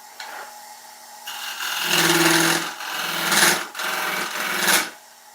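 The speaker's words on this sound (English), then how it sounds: "what I'm trying to do is create a dovetail on the tenon" A skew chisel cutting a dovetail on the tenon of an oak serving bowl spinning on a lathe: a steady motor hum under several loud, rising and falling bursts of scraping cuts.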